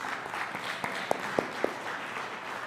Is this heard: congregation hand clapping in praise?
yes